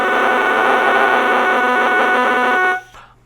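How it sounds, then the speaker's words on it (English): A soaked bassoon reed blown on its own gives a loud, steady multiphonic squawk, a harsh buzzing crow with stacked tones held for almost three seconds before it cuts off. "the sound that you're hearing is actually called a multiphonic"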